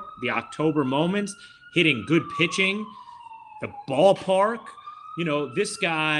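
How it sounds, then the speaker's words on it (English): Emergency sirens outside, a long wailing tone sweeping slowly downward, run continuously under a man's close, animated speech. "I apologize for the sirens here."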